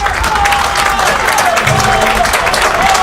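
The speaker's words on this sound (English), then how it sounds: "the players deserve every bit of applause they're getting as they come off the pitch just now" Sustained applause from a large football crowd as players leave the pitch at a Harborough Town v Bury FC match, steady and fairly loud throughout, with a faint whistle or call rising above it.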